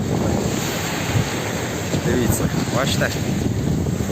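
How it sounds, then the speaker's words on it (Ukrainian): Stormy Mediterranean Sea waves surge and crash on the French Riviera coast in the evening, a continuous rough roar with heavy wind buffeting the microphone, while someone speaks briefly. "Бачите, погода трошки зіпсувалась надвечір. Середземне море розбушувалося."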